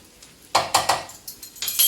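Flour being stirred into a pan for homemade gravy, with a run of rhythmic scraping and clinking strokes of a utensil against the metal pan, close and fairly loud, with no talking.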